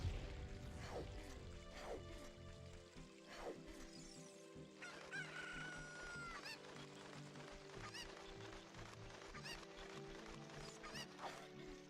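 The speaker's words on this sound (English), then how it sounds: "Oh no, that chicken." Chicken clucking and squawking in Ocarina of Time, with Child Link nearby, repeated bird calls over steady game music, fairly close and continuous throughout.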